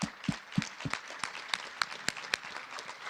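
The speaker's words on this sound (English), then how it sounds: "So round of applause." Sparse, scattered clapping from a small audience at a ULI Toronto symposium, a light patter of individual claps rather than a full ovation.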